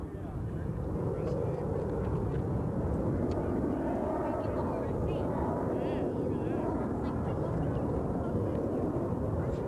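Military jets flying in diamond formation at an air show, a continuous broad roar that holds steady from a distance for the whole stretch, with a commentator talking over it on the loudspeakers.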